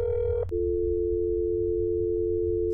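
A steady electronic phone tone from the video game That's Not My Neighbor, preceded by a brief higher beep, holding on alone and unanswered for a couple of seconds.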